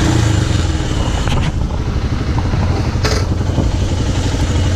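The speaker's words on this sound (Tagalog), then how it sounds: "Ayan, Himalayan 400cc ng Royal Enfield. Test sound check." A Royal Enfield Himalayan 400cc motorcycle engine runs steadily and loudly up close, a constant throbbing rumble with a brief burst of noise partway through and no talking.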